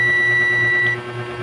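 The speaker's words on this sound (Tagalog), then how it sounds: "Kasi pag bumaser po siya, ibig sabihin may mali sa ating ginawa." A wiring tester buzzer sounding when the line wires are shorted: a steady, loud electronic tone held for over a second, dipping slightly near the end.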